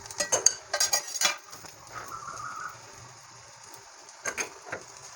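Dry coconut roasted and stirred in a pan for egg curry, with quick clattering scrapes of a spatula in bursts at the start, a quieter stretch, then more scraping at the end.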